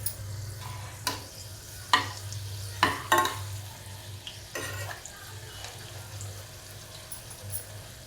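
Matar karanji, pea-filled pastries, frying in hot oil: a soft continuous sizzle with several sharp clinks and scrapes from a utensil stirring and turning them in the pan.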